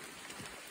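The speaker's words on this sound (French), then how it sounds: "Il pleut, il mouille." Rain falling under trees on a countryside hike in the Lot near Issendolus, a soft steady broadband patter of drops, faint and continuous throughout with no talking.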